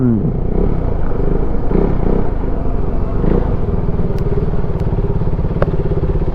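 A KTM Duke motorcycle idles steadily at a fuel station, its engine a loud, close, continuous throbbing rumble, with a few faint clicks toward the end.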